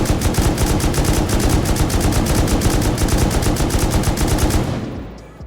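Sustained automatic fire from an M2 with a laser sight in Rust Console Edition, a rapid unbroken stream of loud, close shots for about four and a half seconds before cutting off into a short fading tail.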